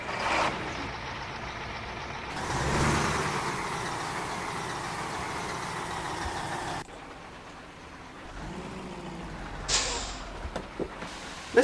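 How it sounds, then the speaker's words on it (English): Simulated diesel engine of an upgraded Ural 4320 truck in Euro Truck Simulator 2, a steady rumbling drone that swells briefly, drops to a lower idle partway through, then ends with a few short sharp bursts. "since I've upgraded that engine, it kind of sounds a bit naff"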